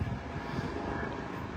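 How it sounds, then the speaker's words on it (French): Large helicopter flying overhead outdoors, heard as a loud, steady, broadband rotor and engine roar that fills the whole clip without pause. "il y a un gros hélicoptère là"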